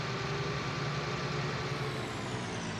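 Tractor in Farming Simulator 19 idling steadily, a constant low engine drone with no changes in pitch, close and alone.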